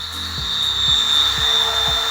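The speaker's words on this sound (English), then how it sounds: "Make sure you keep your fingers away from the drill bit" Power drill boring holes while building a medium garden tower for growing food, a steady high motor whine running throughout with rhythmic low thumps about every half second, close and fairly loud.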